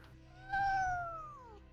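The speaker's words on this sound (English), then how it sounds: "She's not a very happy cat either." A single drawn-out meow from an unhappy cat, rising and then sliding down in pitch, loud and close, heard alone over a low background hum.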